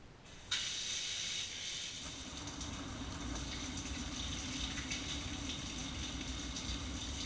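Shower water runs in a steady, close hiss that starts abruptly after a short quiet moment and continues evenly without pause, with no voices.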